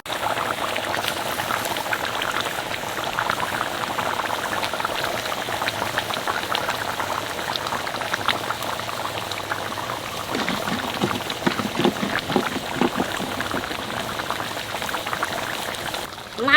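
Fish curry bubbling steadily in a pan as mustard-poppy paste and tomato go in, a continuous close simmer of popping, rain-like bubbles that grows busier toward the end.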